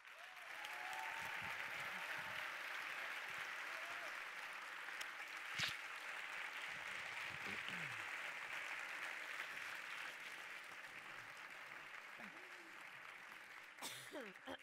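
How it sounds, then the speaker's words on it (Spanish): An audience applauds at a science communication semifinal in Barcelona, sustained crowd clapping that stays broad and even for many seconds, heard from a distance, with a few faint voices underneath and a brief knock near the end. "Un aplauso para Gloria García Cuadrado"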